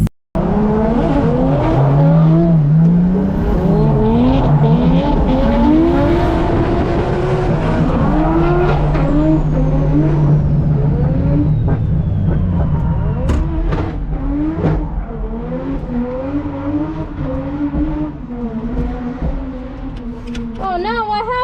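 A Nissan Skyline drifts on a race track, its engine revving hard and tires squealing continuously through long slides, loud and close, with pitch rising and falling as the throttle changes.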